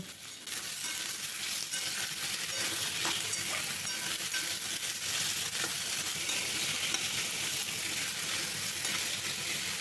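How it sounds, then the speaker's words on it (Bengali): Potato pieces frying on high flame and tossed in a pan for a ridge gourd dish, a dense, loud continuous sizzle with stirring scrapes running through it, no talk. "আলুটাকেও কিন্তু হাই ফ্লেমে এক থেকে দেড় মিনিট নাড়াচাড়া করে ভেজে নেব"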